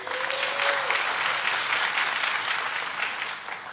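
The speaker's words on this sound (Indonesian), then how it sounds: "Sebelumnya tepuk tangan dulu buat Kongguan." Audience at an Indonesian stand-up comedy show applauds steadily for Kongguan, a loud, dense clapping that holds for several seconds with no talk over it.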